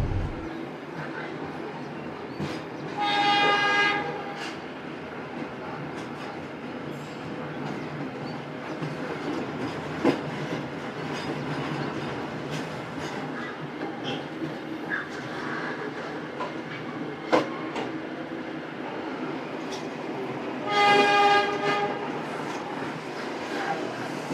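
Sancaka Utara passenger train rolling slowly along a single track on the Pantura line, a steady rumble of wheels on rail with faint clatter and two brief squeals near the start and end.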